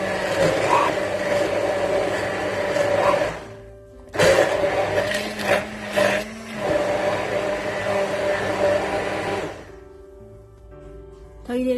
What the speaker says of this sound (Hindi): इसको हैंड मिक्सर की मदद से